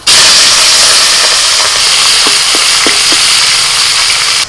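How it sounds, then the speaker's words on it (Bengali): Prawns sizzle loudly and steadily in hot mustard oil in a wok, a dense, continuous frying hiss with a few faint knocks underneath. "এখন আমি চিংড়ি মাছ দিয়ে দিচ্ছি।"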